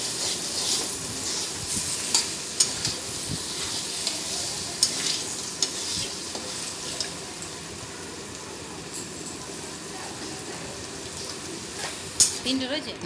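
Mutton pieces frying with shahi garam masala and meat masala, a steady broadband sizzle with occasional scraping stirs and clinks of a spoon against the pan, close and continuous throughout.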